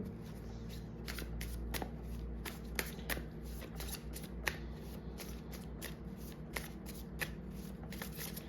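Tarot cards shuffled by hand close up, with a steady run of soft riffling flicks and sharper snaps repeating throughout over a low background hum.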